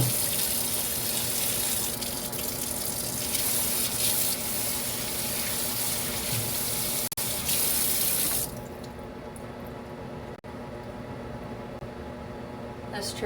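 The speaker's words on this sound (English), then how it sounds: "I usually just run some hot water over them and it's fine" Hot tap water runs steadily from a kitchen faucet over a wooden cutting board, a continuous close hiss and splash that drops to a softer flow partway through.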